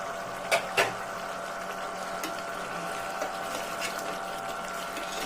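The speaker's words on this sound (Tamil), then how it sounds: "குழம்பு நல்லா கொதிச்சுட்டு இருக்குது" A pot of Karuvattu Kulambu, a dried-fish curry, simmers steadily with a constant low bubbling hiss, broken by a couple of sharp clicks near the start.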